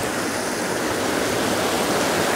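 A river flows in a steady, dense rush of water, close and continuous with no breaks, along a bank where orchids grow under a cottonwood.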